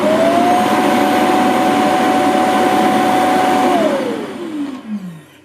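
An Ecovacs T90 Pro Omni robot vacuum's docking station runs a loud, steady suction whine. The drone holds evenly, then its pitch falls as the motor winds down.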